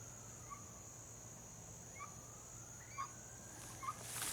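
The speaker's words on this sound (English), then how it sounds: "the guinea fowl." Guinea fowl calling outdoors in a weedy garden, a few short harsh calls spaced over several seconds against steady insect buzz and a low hum, moderately distant.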